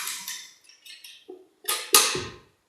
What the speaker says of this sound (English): I'm just going to give that a tiny little whisk.